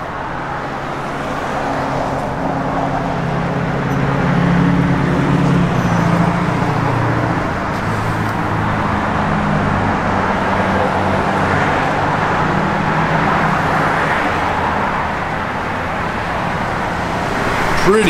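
A 1967 Chevrolet Camaro RS engine with an aftermarket cam idles and rumbles steadily with a low, uneven throb, mixed with some road or traffic noise in the background.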